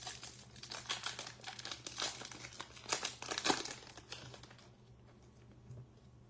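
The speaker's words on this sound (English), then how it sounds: "Seven cards per pack." Plastic wrappers crinkle and tear as 2022 Select and Bowman baseball trading card packs are opened, a close series of sharp crackling bursts that fade out near the end.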